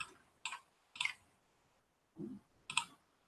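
Several sharp computer mouse clicks spaced irregularly, including a quick double click, close and quiet against near silence.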